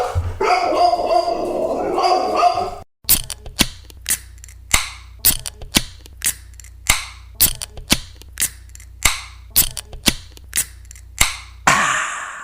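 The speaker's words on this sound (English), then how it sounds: "There's that three-legged dog that you heard about last week." A three-legged dog barks in a long run of sharp, evenly spaced barks, roughly a dozen and a half, loud and close. A brief stretch of mixed noise comes before the barking begins.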